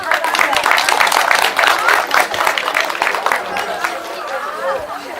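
Audience applause at a Korean train-station concert welcoming a Dongnae crane dance performer, loud dense clapping that fades gradually amid crowd chatter and murmuring voices.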